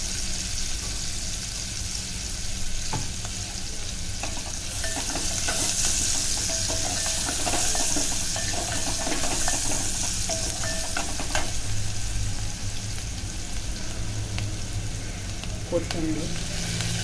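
Onion and ground masala paste frying in oil in a pot for Malvani clam curry, a continuous loud sizzle with occasional stirring scrapes and utensil taps, heard close up throughout.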